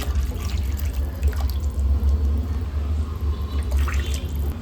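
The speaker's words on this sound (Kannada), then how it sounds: "ನೀರು ಹಾಕೊಳ್ತಾ ಇದ್ದೀನಿ" Water poured into a pot of cumin-pepper rasam makes a steady, close trickle and splash over a low hum, with no talking.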